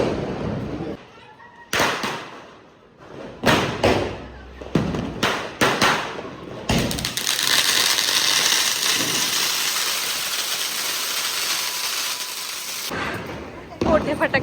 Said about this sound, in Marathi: मोठे फटाके वाजवण्यासाठी आम्ही टेरिस वरती आलोय